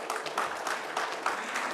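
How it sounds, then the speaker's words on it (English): Audience applause at a panel discussion breaks out in a moderate, even burst of clapping from a crowd across the room, with no talk over it. "I think you should all clap for that."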